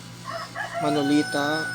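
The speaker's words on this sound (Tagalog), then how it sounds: "Ayun na yung manok." A rooster crows once nearby, a short rising then sustained call lasting about a second, heard with a faint background hum.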